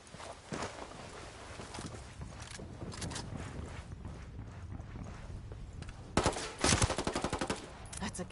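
Video game gunfire crackles through a chaotic firefight, with bursts of rapid automatic shots that grow loudest and densest near the end, mixed with footsteps and other battle noise.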